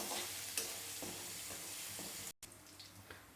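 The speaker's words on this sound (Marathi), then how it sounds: "लसूण थोडासा परतून घेते" Garlic sautéing in hot oil with crackling cumin and mustard seeds, a steady close sizzle with soft stirring scrapes and a brief gap near the end.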